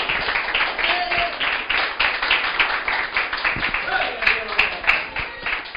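Congregation in a Spanish-language church service claps steadily together in praise, with rhythmic, fairly loud hand claps carrying through the room alongside voices.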